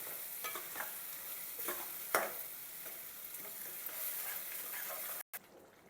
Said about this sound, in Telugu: ఇప్పుడు ఈ మసాలాని కొంచెం బాగా వేగనిద్దాం